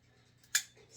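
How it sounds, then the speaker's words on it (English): Scissors snip once through packing tape at a dispenser, a single sharp close cut standing out from a quiet room. "I usually have to get out the scissors and trim it"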